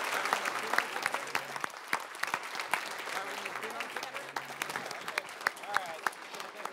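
Audience applause at a city State of the City address in San Marcos, a steady patter of clapping with scattered sharper claps, moderate and somewhat distant, with faint voices mixed in throughout.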